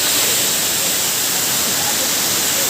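Steady broadband rush of Ermai waterfall in Karnataka, a continuous dense hiss of falling water close by, unbroken throughout with no distinct events.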